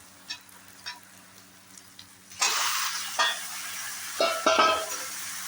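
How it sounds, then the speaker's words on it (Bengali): Pieces of mutton hit hot fried onions in a pan, setting off a sudden loud sizzle after a few quiet taps, then more bursts of frying as the meat is stirred, close and with no talk. "পেঁয়াজটা এই যে ভাজা ভাজা হয়ে গেছে, এবার আমি মাটনটা দিয়ে দেবো।"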